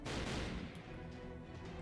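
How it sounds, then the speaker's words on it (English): Gunfire in the Fate/Grand Order game, a quick burst of sharp shots at the start followed by scattered faint cracks and rumbling, fairly quiet overall. "Those were gunshots."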